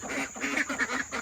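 Ducks kept in a makeshift rabbit play pen, quacking in a rapid repeated series of close, loud calls with no talk.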